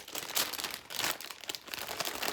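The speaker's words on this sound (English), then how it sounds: "Again, sorry for the crinkling." A plastic bag crinkles and rustles up close as it is packed away, in irregular crackly bursts with no talking.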